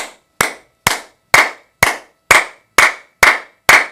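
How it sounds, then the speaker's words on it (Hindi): Nine sharp, loud hand claps ring out alone at a steady, even pace, each one crisp with a brief decay, in what sounds like a closed indoor room. "अब आप जब ताली बजाओ इसकी, तो इतनी जोर से बजाओ कि पूरे के पूरे चैनल्स आपके खुल जाए"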